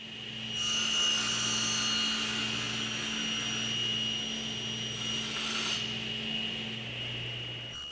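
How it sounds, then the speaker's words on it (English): A table saw with a crosscut sled and stop block whines at a steady pitch, blade cutting wooden tenons on farmhouse bench legs in repeated passes. The loud saw runs continuously with no talk over it. "I'm cutting the tenons by removing one saw blade with each pass."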